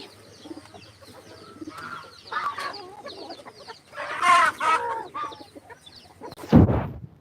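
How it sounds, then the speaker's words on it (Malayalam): A silkie chicken clucks and murmurs nearby in uneven bursts, growing louder toward the middle, ending with a sharp thump. "ഇതാ സിൽക്കി കോഴി സിൽക്കി കോഴി കണ്ടാ"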